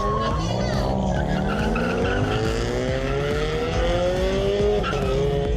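A loud, sustained tire squeal from a drift car at a car festival in Thailand, the pitch sliding upward over a roaring engine, close and continuous throughout.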